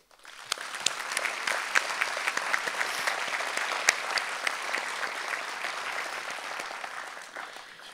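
An audience at an inaugural Christmas evening gathering in Meisenthal applauds with a lively, steady patter of many hands, rising quickly and fading slightly at the end.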